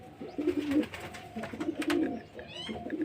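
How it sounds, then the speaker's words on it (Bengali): Male pigeon cooing in repeated low throaty phrases at close range, with faint chirps and household background noise between the coos. "এটা হচ্ছে নর পায়রা আছে মানে ছেলে পায়রা"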